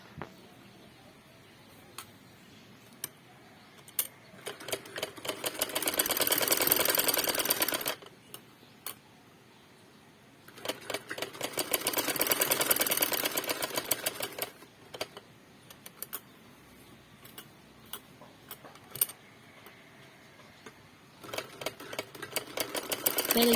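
A domestic sewing machine stitching a round neckline into fabric runs in two long bursts of rapid, even mechanical clatter, with short start-stop runs and light handling clicks between them and after, fairly quiet and close, no talk.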